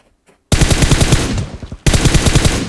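Rapid automatic gunfire in PUBG Mobile, two loud sustained bursts of fast evenly spaced shots split by a brief pause, close and dominant.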